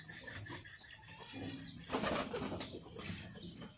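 Pigeons kept at a home loft, with soft cooing and bursts of wing flapping heard close by, quiet overall with a brief louder flutter partway through.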